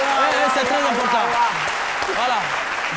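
Studio audience applause during a French televised commentary segment, a broad steady patter of clapping heard beneath a speaking voice.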